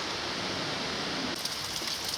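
Rain falls steadily on a countryside walk near Webber's Post, a constant soft hiss with faint patters of drops nearby.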